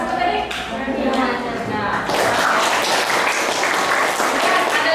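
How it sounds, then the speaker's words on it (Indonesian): Students applauding in a classroom, a brisk wash of clapping that swells after a moment and continues steadily, with voices mixed in. "Tepuk tangan buat satu tadi."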